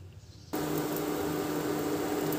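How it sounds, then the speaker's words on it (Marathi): Water with lemongrass and rock sugar boils in a pot, a steady broadband hiss that starts abruptly and holds evenly at a moderate level to the end. "आता हे पाणी छान उकळू द्यायचं आहे, 1-3 मिनटं उकळून घ्यायचं आहे।"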